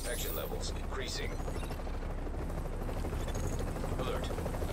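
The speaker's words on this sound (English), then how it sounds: "Okay, we're putting the chopper down." A helicopter sets down during an evacuation in the video game The Division Survival, its rotor roaring as a constant dense mechanical drone, with scattered gunfire-like bursts and in-game voice chatter over it.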